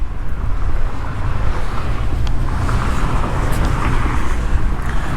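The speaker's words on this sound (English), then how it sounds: "That's the gas truck right there, guys." A gas delivery truck rolls through a residential neighborhood in Milenio, Querétaro, Mexico, its low engine rumble and road noise steady and fairly close, mixed with wind buffeting on the microphone.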